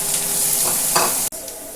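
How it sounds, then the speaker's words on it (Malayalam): Onions and green chillies go into hot oil in a pan and are stirred. A loud, steady sizzle and crackle carries on throughout, with a brief stirring scrape partway through and a sudden short dip near the end. "ഇനി നമുക്ക് സവാളയും പച്ചമുളകും കൂടി അതിലേക്ക് ഇട്ട് കൊടുക്കാം."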